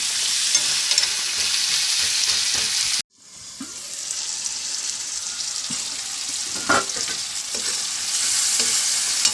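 Tomatoes and curry leaves fry in a hot pan for crab roast, a steady close sizzle with occasional stirring scrapes; a brief drop near three seconds, then the frying resumes loud and continuous.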